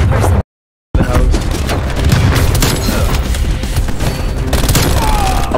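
In a video game, a shotgun fires in a rapid spray of booming blasts. The loud, dense volley runs almost nonstop after a brief dropout near the start, with no talking over it.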